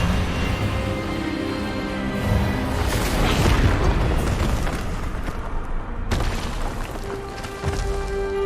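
A booming, explosive burst for the Expelliarmus spell in Hogwarts Legacy rumbles and crackles, sustained for several seconds before a sharp cut and a fading tail.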